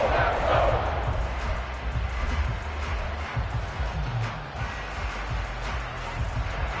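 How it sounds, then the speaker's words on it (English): A football stadium crowd at a Packers game keeps up a dense, continuous roar of many voices, loud and unbroken, with swells of shouting throughout. "this crowd doing their best to make a lot of racket"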